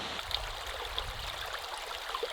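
Gordale Beck runs off the moors through a rocky bed, a steady close rush of flowing water with faint trickles and gurgles, heard alone without voices.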